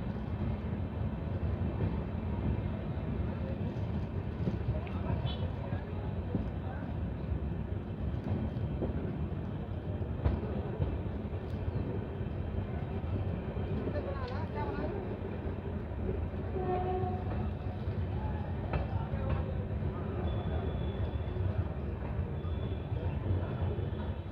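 A train pulls in at platform one of Jabalpur station on the Lalkuan–Howrah service, a steady low rumble of wheels and carriages close by, with faint voices in the background throughout.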